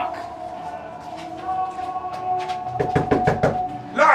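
Knocks on a door inside a haunted house attraction, a few scattered raps and then a quicker loud burst of knocking near the end, with voices and shuffling in the background.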